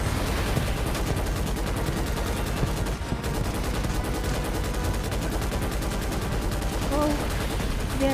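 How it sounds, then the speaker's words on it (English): Continuous dense gunfire and artillery barrage from bug artillery in a video game, loud and unbroken for the whole stretch, with a brief dip midway. "there's the bug artillery"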